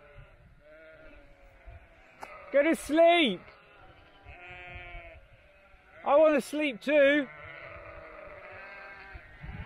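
Sheep bleat in a field on the Trans Cambrian Way in Wales, two clusters of loud, wavering bleats heard close by, with quiet talk in between.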